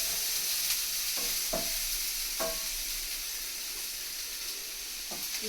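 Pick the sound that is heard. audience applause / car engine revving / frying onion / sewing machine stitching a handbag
frying onion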